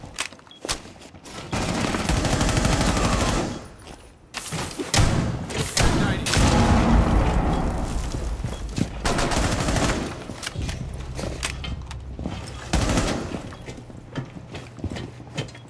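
Gunfire in Rainbow Six Siege, a bursts-and-pauses mix of rapid automatic shots and single cracks lasting several seconds at a time, loud and close with brief gaps between exchanges.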